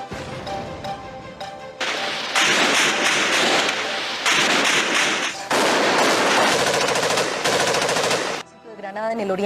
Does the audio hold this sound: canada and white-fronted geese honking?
no